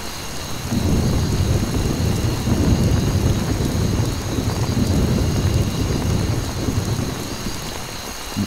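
Steady heavy rain pours with a low rumbling thunder underneath in the video game Conflict: Vietnam, a continuous dense storm roar with a faint high electronic hum, no voices.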